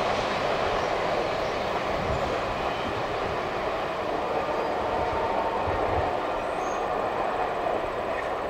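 A BNSF-led freight train rolls past on the rails with a continuous rumbling roar of wheels and cars, steady and fairly distant, with no voices.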